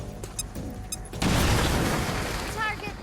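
A frag grenade explodes in the video game XCOM: Chimera Squad, a loud, close, sustained boom with a rumbling tail following a few brief clicks, with in-game voices heard around it.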